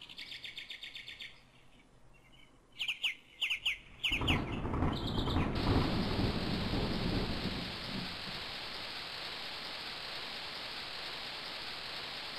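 A magic storm spell in King's Quest III Redux brings a sudden thunderstorm: after bird chirps, sharp thunder cracks burst out, followed by a heavy rumble and steady rain hissing on surfaces that settles into a constant downpour.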